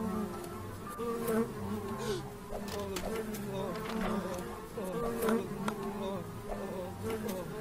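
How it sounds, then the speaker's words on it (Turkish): Bees buzz in a continuous droning swarm in the Whack Your Teacher video game, with faint talk and scattered clicks mixed underneath. "Arı mı salacağız?"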